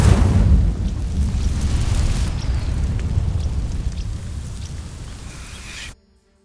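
Incendio fire spell setting dry vines ablaze in Hogwarts Legacy, a loud roaring whoosh of flames that bursts in, sustains as a dense rumbling crackle, then cuts off abruptly.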